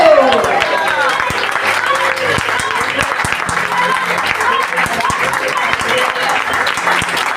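A church congregation claps loudly during a pastor's sermon, a dense sustained roar of applause lasting several seconds with a voice audible beneath it.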